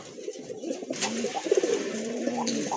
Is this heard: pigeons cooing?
yes